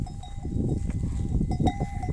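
Flock of sheep grazing on green pasture, with a few faint bleats and soft cowbell-like clinks over steady low rustling, fairly close and moderately loud.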